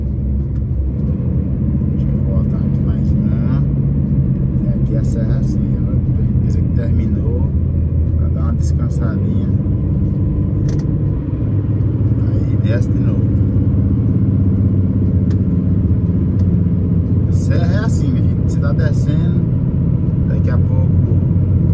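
A car descends a winding mountain road near Antônio Prado, Rio Grande do Sul, with a loud, steady low engine and road rumble that runs unbroken throughout.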